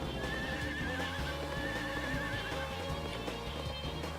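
A horse in a racing video game whinnies in a long wavering neigh over steady clip-clopping hooves, with game sounds layered beneath.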